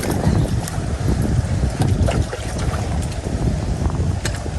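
Strong gusting wind buffets the microphone with constant rumbling roar, with faint splashing and creaking beneath, and nobody speaking.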